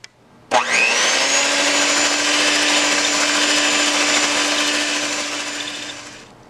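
Electric mixer whirring steadily through beaten eggs and vanilla extract in a bowl, starting with a sharp jolt and holding a bright, even drone for several seconds before easing off.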